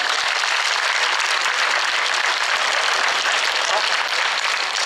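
Audience at a seniors' afternoon gathering applauding the retirement homes, sustained dense clapping from a crowded room, loud and continuous, with a voice faintly underneath.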